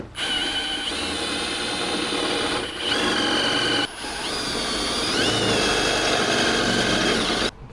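A power drill with a 9.5mm bit whines steadily as it bores into metal on a Jeep Wrangler JK rear door, pausing twice briefly before grinding on, loud and close.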